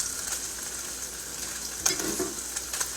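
Salmon cooks skin-side down in a hot pan, giving a steady, close sizzling crackle with a brief louder spatter partway through.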